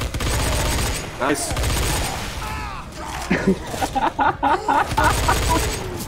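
Machine gun fire in the co-op shooter Left 4 Dead 2, loud rapid bursts and crashing impacts mixed with game effects while players talk over it.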